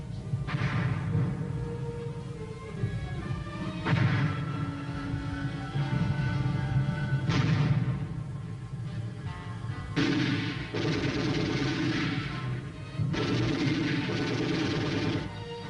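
Heavy artillery guns of the Korean War boom in a series of loud blasts roughly every few seconds, each with a long rumbling tail over a continuous low background roar.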